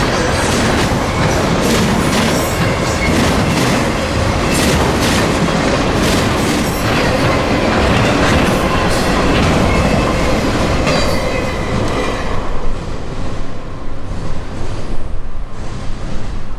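A loud freight train rumbles past up close on a Florida line, wheels clattering in a rhythmic clickety-clack with occasional metallic squeals, fading slightly toward the end.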